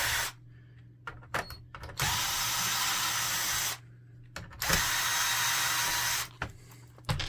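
A power screwdriver whirs in several short bursts, each a few seconds long with brief pauses between, while backing screws out of an HP ENVY Photo 7858 printer during disassembly.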